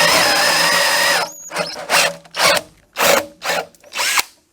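A power drill bores holes for installing a rail: one long, steady whine runs for about a second, then five short bursts follow at a regular rhythm, close and loud, with no talking.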